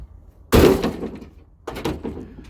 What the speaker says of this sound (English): this door doesn't even come close to shutting